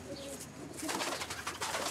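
Homing pigeons coo softly in the background, a faint low murmuring over a rustling outdoor ambience.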